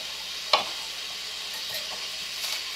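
Cold butter, four tablespoons, hitting a hot pot for a low-carb Brussels sprouts Alfredo, giving a steady soft sizzle with a few brief louder crackles, heard alone at low level.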